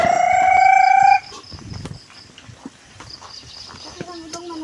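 A loud, sustained rooster crow opens the moment among many chickens at a farm hut, then fades into quieter clucking and shuffling while people talk nearby.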